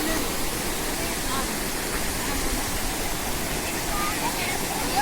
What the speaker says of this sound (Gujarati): આ ન્યા આવેલો છે જળધોધ